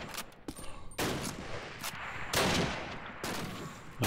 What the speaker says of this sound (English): Nice bolt action duel